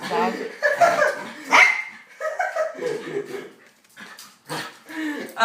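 Up close, a female dog barks repeatedly and whimpers between bursts, the sounds irregular and loud with panting in the pauses.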